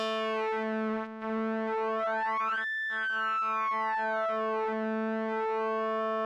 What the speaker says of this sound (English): listen to what happens when I now change the pitch of that oscillator.